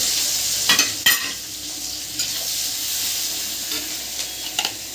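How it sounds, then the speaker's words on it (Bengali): Eggs frying in a pan with onions, a steady close sizzle with crackles and a few sharp pops, continuous for the whole stretch with no voices. "ডিমটাকে ভালো করে ভেজে পেঁয়াজগুলো দিয়ে দেবো"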